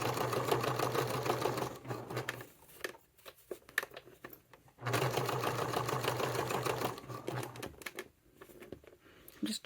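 A sewing machine stitches a purse in two steady bursts of close, even whirring, each lasting about two seconds, separated by pauses filled with quiet handling noise.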